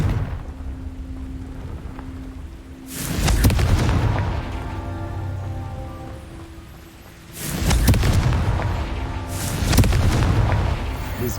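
A Confringo fire spell blasting in Hogwarts Legacy, two heavy booming explosions several seconds apart, each one swelling into a rumbling roar that slowly fades away.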